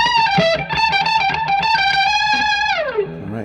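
Distorted electric guitar plays melodic licks, sustained bending notes with an effects-laden tone, played alone and closing on a sliding downward bend.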